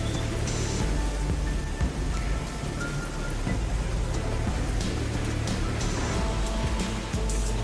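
Heavy rain pours down during a storm in South Korea's Chungcheong region, a dense, steady roaring hiss with no voices.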